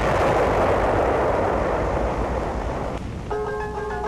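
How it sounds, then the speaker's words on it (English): Artillery bombardment of Lhasa on an archival newsreel soundtrack: a heavy, continuous rumbling roar of distant explosions fills most of the stretch, then eases as a faint tonal hum enters near the end. "Lhasa, under communist bombardment"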